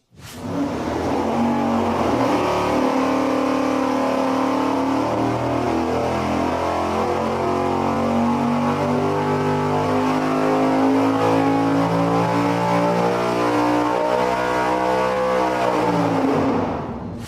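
Junkyard car engine running on a dyno, a loud steady sustained drone with strong low harmonics that starts abruptly and holds for about sixteen seconds before dropping off.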